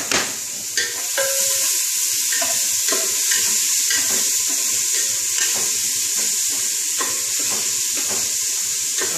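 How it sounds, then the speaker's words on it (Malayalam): Sliced onion sautés in a hot pan for a beef curry, a steady close sizzle broken by regular stirring scrapes. "ഒന്ന് ജസ്റ്റ് ചൂടായതിനു ശേഷം സബോള. ഇത് നല്ലതായിട്ട് ആദ്യമേ വഴറ്റുക."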